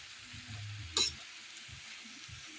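Malabar spinach (alugbati) cooks in a pan with a soft, steady sizzle and one brief, louder stirring scrape partway through.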